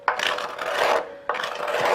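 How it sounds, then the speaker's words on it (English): A scraper works an elm wood bowl on a lathe, giving two sustained raspy scraping passes, each starting sharply, close and fairly loud, with a brief pause between them. "Scraper, only my finish shaping tool of choice here."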